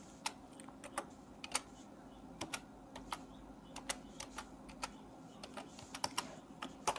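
Rapid, uneven keystrokes on a computer keyboard while HTML code is written, steady bursts of close, crisp clicks with short pauses and no talking.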